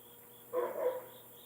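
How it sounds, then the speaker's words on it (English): One short, distant dog bark breaks through a quiet background with a steady insect hum. "Listen to the dogs."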